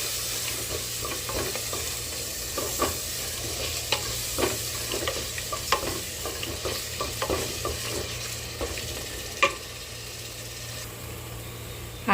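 Mutton simmers and bubbles in a pot with yogurt and lemon for biryani, giving a steady low sizzle with scattered soft pops and occasional clinks of a spoon, close and fairly quiet, with no voices.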